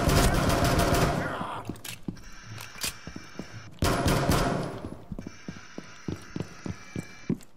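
Rapid automatic gunfire in the video game Rainbow Six Siege: two long, dense bursts of shots broken by clicking mechanical handling sounds and scattered single cracks, with a brief voice in the background.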